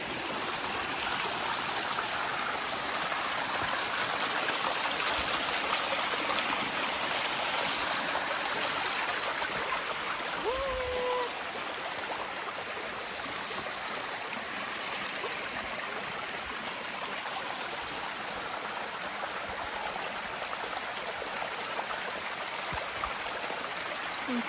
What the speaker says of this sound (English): Did you hear the sounds of the water? So relaxing. This is the first waterfalls.